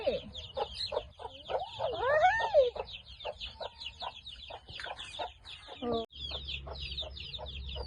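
A mother hen clucks in a farmyard with her chicks, repeated close clucks and rising cheeping calls in an irregular patter, with a low rumble near the end.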